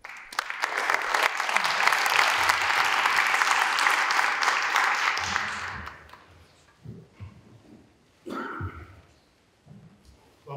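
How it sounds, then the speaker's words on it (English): A lecture audience claps to welcome a Jesuit priest speaker, a loud, dense ovation lasting about five seconds before fading, followed by someone talking. "join me with a round of applause to welcome Father Antoni Ucerler"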